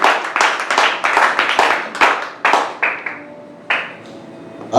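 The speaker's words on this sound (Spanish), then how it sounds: "Démosle palmas al Padre, al Hijo y al Espíritu Santo." A church congregation claps hands together in worship, a dense burst of brisk clapping that thins into a few scattered, fading claps, with no words spoken.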